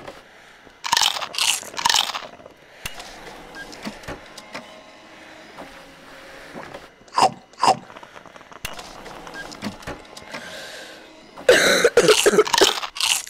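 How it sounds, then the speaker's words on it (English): Coughing in the Job Simulator video game comes in a few harsh bursts, a pair early, one more in the middle and a dense cluster at the end, with little else around them. "I hate coughs."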